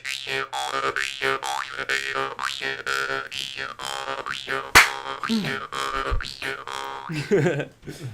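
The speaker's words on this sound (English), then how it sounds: "This is a jaw harp, aka a Jew harp." A jaw harp twangs in a springy, bouncing rhythm, its buzzy tone bending up and down, close and fairly loud, with a sharp click partway through.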